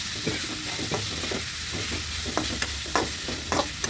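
Chicken pieces being sautéed in a pan for chicken perattu, with a steady sizzle and repeated scraping stir strokes, close and fairly loud, no voices.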